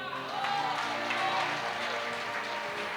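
Applause from the congregation at a church congress, a brief swell of clapping that fades over a few seconds, with a voice speaking over it.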